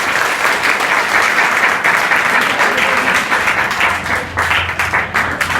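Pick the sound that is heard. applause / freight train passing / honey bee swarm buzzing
applause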